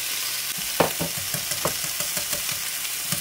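Whisk scraping and clicking through a cheese mixture in a pan, quick uneven strokes close up over a faint steady sizzle, with no talking.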